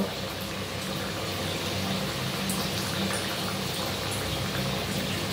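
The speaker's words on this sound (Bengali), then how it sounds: "এক পিঠ ভাজা হলে আমি উল্টো পিঠ ভেজে নেব" Bhetki fish fillets sizzle and bubble steadily in hot oil, a continuous crackling hiss with small pops, close and fairly loud.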